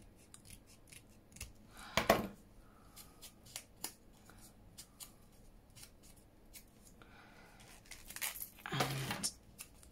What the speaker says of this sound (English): So I'll just trim around this.